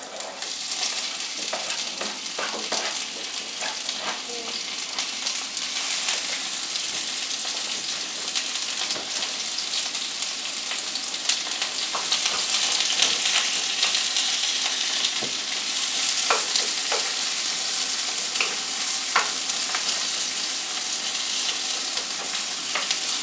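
Bacon grease sizzles in a pan ahead of cooking steak, a loud, continuous close-up hiss with scattered crackles and pops and no talking.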